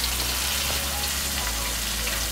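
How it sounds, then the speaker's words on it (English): Steady sizzling crackle of chicken wings frying, a continuous hiss with fine pops throughout, fairly close. "Hear that sizzling?"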